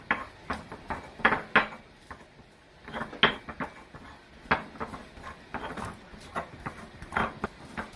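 Garlic being ground by hand for asado de puerco, a series of irregular knocking and scraping strikes against a hard bowl, close and crisp, bunched in uneven bursts with brief pauses between.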